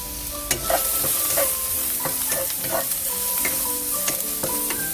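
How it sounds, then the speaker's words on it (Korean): Minced garlic, thyme and chili flakes are stirred into sizzling peppers in a pan, with a loud continuous fry and repeated clinking, scraping strokes of a utensil close by. "다진 마늘 한 큰술, 타임 반 작은술, 고춧가루 조금 넣고 섞어주세요"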